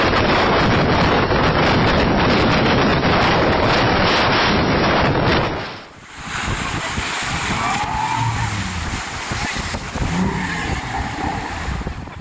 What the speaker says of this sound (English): The waves are so strong that they push huge ships off their path